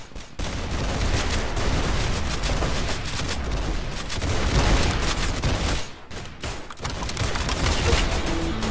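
Rapid shotgun and gunfire blasts from the Roblox shooter Arsenal, dense and loud, packed almost without pause and dropping out only briefly before resuming.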